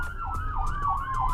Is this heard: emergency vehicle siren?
yes